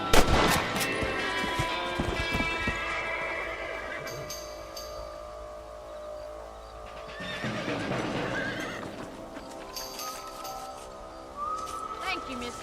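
Red Dead Redemption Western game action: rifle shots crack early amid horse whinnies and clip-clopping hooves, with a busy mix of game ambience and music continuing through the scene.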